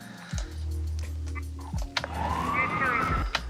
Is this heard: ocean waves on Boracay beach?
no